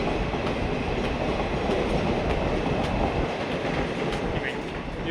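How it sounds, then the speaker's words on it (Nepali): A train rolls past at Chetpet railway station, a steady, loud rumble with clattering wheels that fades slightly toward the end. "बगलबाट चाहिँ एउटा ट्रेन निस्किँदैछ है।"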